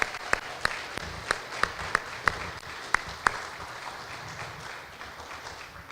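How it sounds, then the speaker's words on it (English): Applause at a community awards ceremony, with a few loud, sharp nearby claps standing out over a steady crowd clapping that tapers off toward the end. "Another round of applause."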